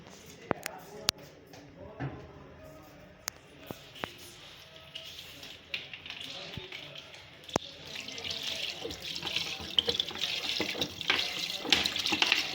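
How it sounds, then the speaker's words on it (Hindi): Water pours steadily into a metal pot, the rush building louder toward the end, with a few sharp clanks and a voice speaking over it. "अब ये मैं ना पानी डालती हूँ इसमें"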